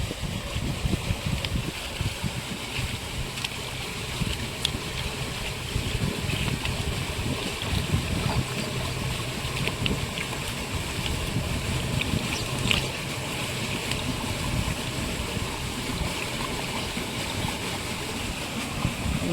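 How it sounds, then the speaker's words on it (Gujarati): A flooded village river flows after heavy rain, pouring water into a shallow well; a steady, close rushing wash with broadband noise and wind buffeting on the microphone, continuing alone without talk. "પાણી બધું સીધું અત્યારે વયું જાય કૂવામાં"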